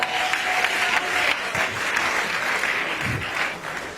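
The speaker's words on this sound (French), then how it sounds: "Est-ce qu'on peut applaudir pour Blessing Lobo, s'il vous plaît?" Sustained audience applause at a singing competition show, a continuous wash of many hands clapping at steady volume, with faint voices beneath.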